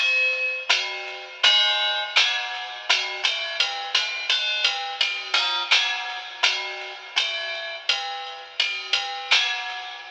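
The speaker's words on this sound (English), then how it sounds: "a series of chops, which is just little tiny stabs on the instrument" A rapid run of short, bright, ringing stabs from a sampled punk electric guitar, irregularly spaced, each with a quick chime-like decay and no voices.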